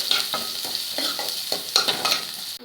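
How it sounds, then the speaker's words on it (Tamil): Onion and garlic fry in hot oil for a fish kulambu, a bright steady sizzle broken by repeated rhythmic scrapes of a spoon stirring, close and loud with no talk. "இப்போ நம்ம கட் பண்ணி வச்சுருக்க வெங்காயம் பூண்டு போட்டுருவாங்க"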